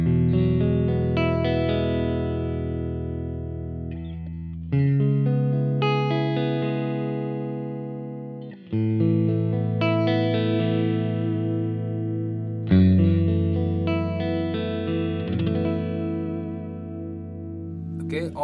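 Electric guitar through a Supro amp model on a Helix, with a deep, full-bodied tone; several chords and notes ring out and slowly fade, played in separate phrases.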